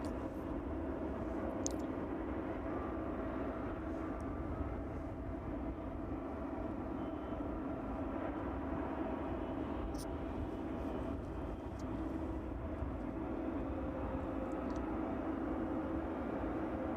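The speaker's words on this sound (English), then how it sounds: "So yeah, a relatively old airframe converted into a cargo aircraft." Old airframe converted into a cargo aircraft at East Midlands Airport on a chilly evening, a continuous loud jet engine roar with a steady broadband rumble and no break throughout.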